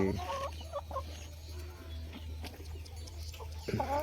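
Desi chickens cluck in a few short bursts at a free-range village poultry farm, over a constant low hum, fairly quiet and somewhat distant.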